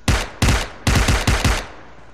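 Automatic gunfire from a weapon in the mobile game PUBG Mobile: several loud, close bursts of rapid shots separated by short pauses, with no talking.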